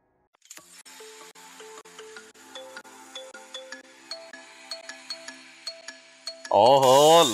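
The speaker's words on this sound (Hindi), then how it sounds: "आ गया नीलो का फोन" A phone ringtone plays a repeating run of bright electronic chime notes at a steady rhythm for several seconds, rising in pitch across the sequence, before a louder voice cuts in at the end, in a Pakistani TV drama scene.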